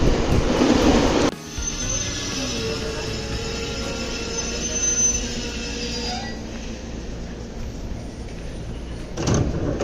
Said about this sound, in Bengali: এই তো আমার ট্রেন চলে আসছে